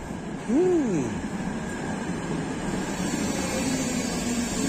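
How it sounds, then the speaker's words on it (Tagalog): Trams roll past at night on a Brno street: a sustained low rumble with a brief rising-and-falling wheel squeal early on and a faint tonal whine later, under steady city ambience. "Mga tram na dumadaan."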